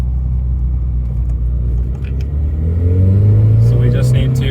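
Nissan Silvia car with a newly installed engine running on its first drive, a close steady idle rumble that climbs in pitch as it revs and accelerates, with a voice talking over it.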